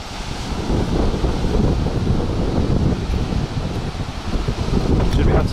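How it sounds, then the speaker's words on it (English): Strong wind on a street in Marbella buffets the microphone continuously with a heavy, rumbling roar and gusty rustling throughout. "It's so windy."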